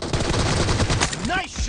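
Rapid bursts of gunfire crackle in a video game gun game match, dense overlapping shots in quick succession, with a brief voice near the end.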